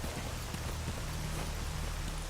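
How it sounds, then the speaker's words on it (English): Rain falls on puddles in the Stalker Anomaly game, a close, even patter with scattered drips over a steady wash, alone with no voices. "I really love rain and rain effects, and these are some of the best I've seen."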